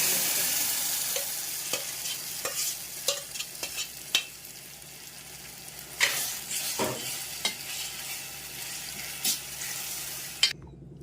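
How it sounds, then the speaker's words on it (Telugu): Onions fry in a pan for a mango and brinjal curry, a continuous crackling sizzle broken by repeated scrapes and knocks of a stirring spoon, close and moderately loud, with no talking. "చూడండి ఇప్పుడు ఎర్రగడ్డలు ఇట్లా బాగా ఫ్రై అయినాయి, గోల్డెన్ కలర్ వచ్చినాయి"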